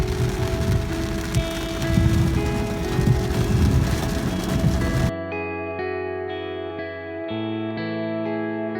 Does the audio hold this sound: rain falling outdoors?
yes